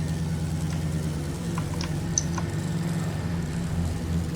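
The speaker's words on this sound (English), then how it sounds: "they've updated the engine sounds a lot now" Vehicle engine in the game Stormworks idling at a steady, moderate low rumble with a faint ticking over the top, even and unchanging throughout.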